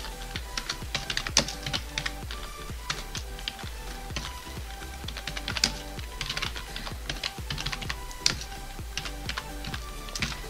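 Rapid, steady typing on a computer keyboard while entering a command for a Raspberry Pi, dense clattering keystrokes close by with occasional harder taps, continuing alone without any talk.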